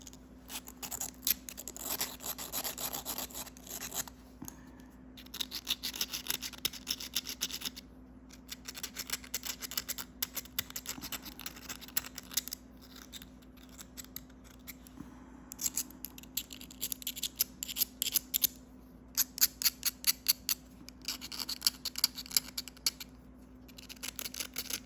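A knapped flint point is ground along its base with a stone abrader, giving quick rhythmic scratching strokes in bursts separated by short pauses, close and fairly faint, with no talk.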